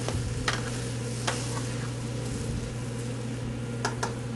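Kidney beans are stirred into a pot of chocolate-tequila chili, soft scraping and wet shuffling over a low steady hum, with a few faint clicks of the spoon against the pot.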